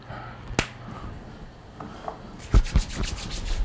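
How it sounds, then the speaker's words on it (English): Hands slicked with fractionated coconut oil rub together before a head and neck massage, a soft close swishing friction with a sharp slap near the start and a burst of quicker rubbing strokes near the end. "just a little dab on my hand, which we're going to rub together to give it a nice glide"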